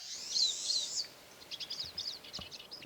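Wild birds wintering in Maine call and chirp outdoors: a loud, close burst of bright twittering, then a quick run of sharp, repeated high chirps over quiet background.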